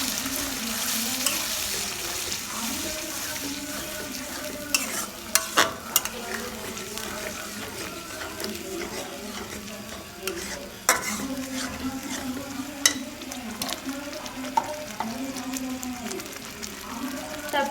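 Oxtail curry with sour yogurt stirred and frying in a pan: a steady sizzle runs throughout, broken by the scrape and clink of a spoon against the pot, with no voices.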